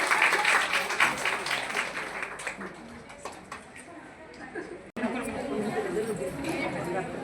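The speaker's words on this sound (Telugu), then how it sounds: "నేను ఒకసారి చప్పట్లు కొట్టవలసిందిగా కోరుతున్నాను." An audience claps at a Women's Day felicitation ceremony for women with disabilities held by a community foundation. The applause is loudest at the start, then softer, mixed with crowd chatter and nearby voices.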